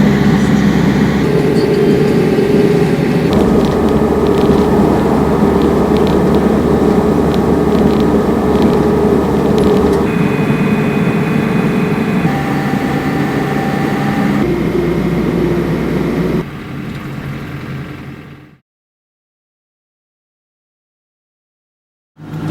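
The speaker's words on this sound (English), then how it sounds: "there are some fast BMWs going past near my little British anachronism of a vehicle" Fast BMW cars pass on the German Autobahn beside a small old British car, a steady loud roar of traffic and road noise that holds for about sixteen seconds, then fades and drops to silence.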